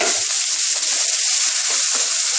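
Chopped onion dropped into hot oil over crackled whole spices for saag mutton, giving a loud, steady, close hiss of sizzling that continues unbroken throughout.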